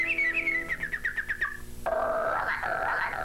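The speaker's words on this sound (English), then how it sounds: "the birds are singing" Birds singing in a Disney television cartoon: bright, repeated chirps and whistled notes in quick succession, then a shift to a fuller warbling song, loud and close.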